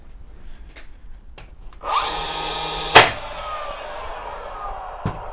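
A DeWalt DCN680N brushless 18V brad nailer whirs as it spins up, then fires once with a sharp, loud crack through three stacked MDF offcuts, followed by a fading motor hum and a light knock.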